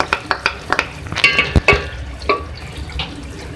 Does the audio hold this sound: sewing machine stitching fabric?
no